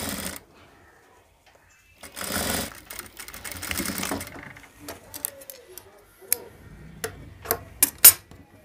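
A sewing machine stitches a band collar in bursts of rapid mechanical whirring, stopping and starting with clicks and ticks between runs, close and fairly quiet.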